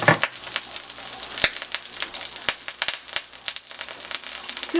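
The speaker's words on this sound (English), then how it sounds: "We have butter. Put some butter in there." Butter sizzling with oil in a frying pan while cooking Chinese-style pepper steak, a close, busy crackle of sharp pops and spits over a constant hiss, with no voices.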